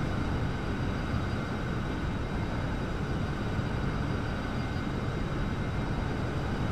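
Boeing 737 engines drone in the X-Plane 11 flight simulator, a steady, even broadband roar with a faint high whine, unchanging for the whole stretch and with no talking.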